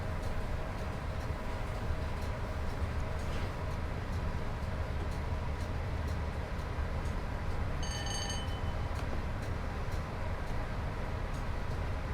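A simulated train on the West Coast Main Line near Crewe, from Train Sim World 6, coasts along the rails with a steady low rumble and faint rhythmic clicks, and a brief high chime sounds partway through.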